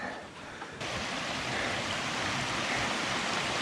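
Steady rushing water of a mountain creek, the South Fork of Pine Creek in Utah's Tushar Mountains, a broad continuous roar without pauses, close by and fairly loud.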